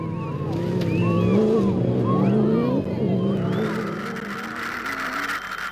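Castrol Toyota rally cars race through the desert, heard on board with a loud, steady engine drone and shifting revs while a commentator talks over it throughout.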